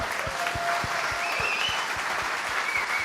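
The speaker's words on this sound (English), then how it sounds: "Big round of applause for Tanya." Conference audience applauding a speaker on a main stage, a steady roomful of clapping with rhythmic low thumps running through it for about three seconds.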